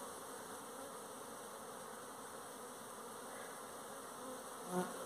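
Honey bees (Apis) fill a hive box holding a naturally captured swarm, producing a dense, unbroken buzzing drone heard up close at an even loudness throughout.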